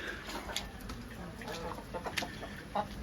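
Several chickens in a coop, including a rooster, cluck softly and intermittently over a steady background hum, with a few sharper clucks standing out.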